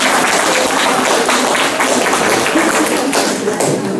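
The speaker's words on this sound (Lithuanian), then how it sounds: "Dar kartelį plojimai jiems." An audience at a book fair event breaks into applause, a loud dense clatter of many hands with heavier tapping thuds mixed in, continuing without pause.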